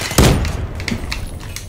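Gunfire in Call of Duty Black Ops 3 Hardpoint, with one sharp, loud shot near the start followed by fainter, scattered cracks and clatter, with no voices.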